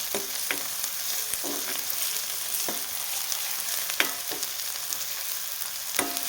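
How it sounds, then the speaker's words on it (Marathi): Onion sautéing in a pan for chana masala, a steady broadband sizzle with sharp spatula scrapes and clicks at irregular intervals, close and moderately loud, no voices. "आता कांदा छान परतत आलेला आहे आता आपण ह्याच्यात अजून एक दीड मिनटं छान परतून घेऊया"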